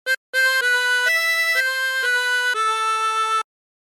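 A 20-hole tremolo harmonica plays a short phrase of Bella Ciao, a brief opening note followed by a run of sustained, reedy wavering notes stepping through the melody, close and clear with no voices.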